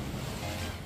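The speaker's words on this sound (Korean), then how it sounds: "출렁이는 바다와 이 파도 소리를 들으면서" Sea waves surging against the rocky coastline below cliffs on Ulleungdo island, a broad continuous wash of surf with wind noise, no voices.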